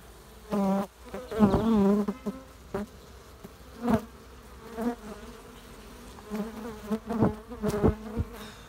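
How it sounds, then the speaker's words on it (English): Honeybees buzz in short bursts close by inside an open hive, rising and fading irregularly over a quiet background, with no speech. "Lots of bees. 1, 2, 3, 4, 5, 6, 7 frames of bees busy."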